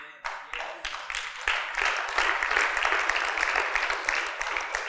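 A church congregation applauding, dense continuous clapping that starts abruptly and builds into steady, loud applause filling the room, with no speech over it.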